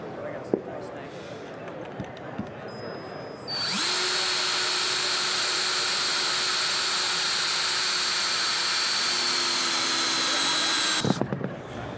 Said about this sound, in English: So I'm gonna cut a piece of cable for you.